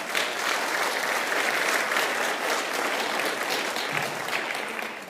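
Sustained applause from a debate audience at Broward College, dense steady clapping that fills the hall for about five seconds and tapers slightly at the end.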